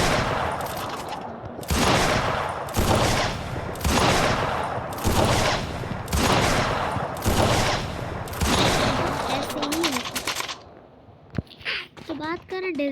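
Repeated heavy gunshots from an AWM sniper rifle in a video game, roughly one sharp loud blast each second in a steady series, followed by a brief quieter stretch with faint effects.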